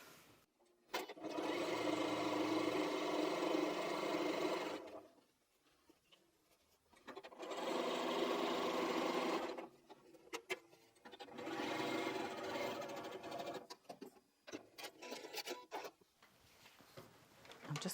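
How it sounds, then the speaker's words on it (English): A sewing machine stitches quilt pieces for a Log Cabin Love quilt in three steady, close runs of rapid mechanical whirring, separated by quiet pauses with small handling clicks. "I'm going to go to the machine and I'm going to sew that"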